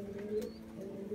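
A pigeon gives a soft, low coo, close by and faint, repeated in a short murmuring phrase against quiet background.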